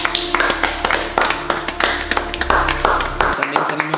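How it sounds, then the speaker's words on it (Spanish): A small group claps by hand at close range, a dense run of sharp, uneven slaps lasting several seconds, with talk and background sound underneath. "También tenemos que dar un pedazo de aplauso"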